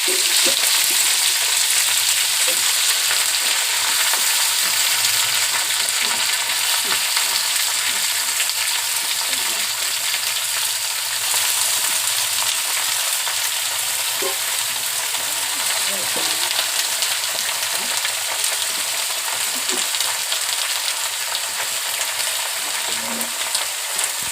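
Vegetables tempered with panch phoron frying in a pan, a continuous loud sizzle with intermittent stirring scrapes throughout, with no talk.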